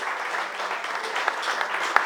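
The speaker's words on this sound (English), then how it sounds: "So give yourselves a round of applause." A stand-up comedy crowd at a fundraiser gives a round of applause, a soft, even wash of clapping from a small audience with a couple of sharper claps near the end.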